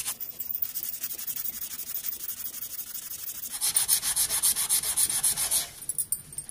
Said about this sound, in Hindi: उसके बाद जो है इसको थोड़ा सा रगड़ना है ऐसे।